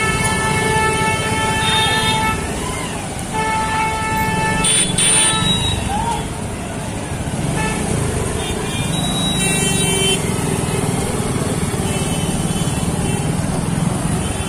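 Busy market street traffic with repeated car and truck horns honking over a constant rumble of passing vehicles, close and loud, with bursts of horns coming and going throughout.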